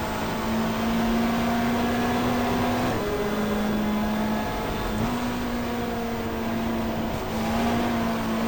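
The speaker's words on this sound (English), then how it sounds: "Past us goes the BMW." A BMW race car in a 1994 GTR2 endurance race at Pukekohe passes by, its engine a steady droning tone with gear-change steps, heard continuously at moderate distance without talk.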